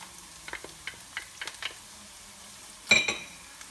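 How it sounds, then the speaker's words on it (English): Spring onions and garlic stir-fried in peanut oil in a wok at medium-high heat, giving soft sizzling with a run of light scrapes and utensil clinks, then a louder clattering stir near the end. "to a medium-high temperature wok with a tablespoon of peanut oil, we're going to add the spring onions,"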